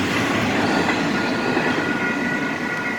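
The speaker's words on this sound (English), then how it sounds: "Kind of missed this freight train going by" A Union Pacific freight train passes close by south of Atlanta, Illinois, as a steady, loud, dense rumble of rolling wagons and wheels on rail, with no voices.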